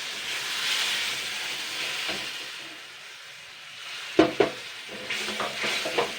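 A spice paste of ground coriander mixed with water sizzles in a frying pan for a Bengali amodia fish curry with gado greens, giving a steady close hiss broken by a few sharp scraping stirs near the end.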